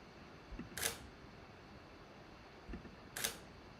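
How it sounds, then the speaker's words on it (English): A camera shutter fires twice, each a crisp mechanical click-clack, during telescope astrophotography at night; the two shots are a couple of seconds apart over a faint background hiss. "Can hear the shutter go off."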